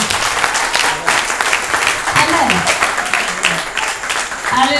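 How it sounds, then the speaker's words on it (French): Congregation clapping together in a church service, a steady dense applause filling the whole stretch with some voices mixed in. "Est-ce qu'on peut applaudir le Seigneur?"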